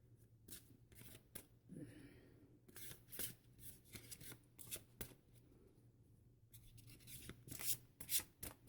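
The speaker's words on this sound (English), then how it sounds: "So we'll just shuffle the cards again." Tarot cards are riffled and shuffled repeatedly, crisp papery flutters in quick bursts with short pauses between, close by and fairly quiet.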